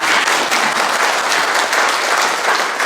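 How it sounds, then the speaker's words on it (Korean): An audience at a year-end seminar bursts into sustained, dense applause, many hands clapping together steadily and loudly throughout with no speech heard. "동의하시면 박수 한번 보내주세요"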